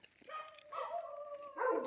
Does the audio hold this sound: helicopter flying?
no